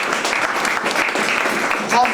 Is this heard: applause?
yes